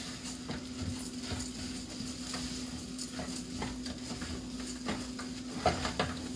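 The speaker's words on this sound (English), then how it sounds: "Alright, so we'll saute the rice a little." Rice sizzles and hisses in a hot pan as it is sauteed with seasoning, a steady frying crackle with a spoon scraping and stirring at a regular pace, close up, no talking.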